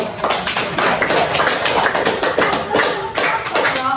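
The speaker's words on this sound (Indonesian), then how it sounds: "kita berikan aplaus" Applause from a class of students in a classroom, a dense run of claps and taps spread across four seconds, fairly loud and close, with no speech over it.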